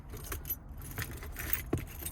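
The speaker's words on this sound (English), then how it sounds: "I got too many damn keys." A bunch of car keys jangles and clinks near a 1984 Volvo 242, light metallic rattling for a couple of seconds against a low background hum, fairly faint.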